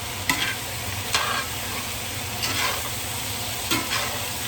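Apples and onions sizzle steadily in a hot pan, with a few sharp spatula scrapes as they are stirred, close and fairly loud with no talking.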